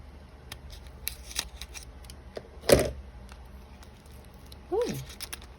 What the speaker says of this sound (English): Let me get my scissors 1 second.